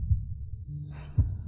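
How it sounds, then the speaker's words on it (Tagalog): Fast heartbeat thumps, low and close, with two strong beats about a second apart plus softer pulses between them, over a faint hum and a thin high tone. "Ang bilis ng tibok ng puso mo."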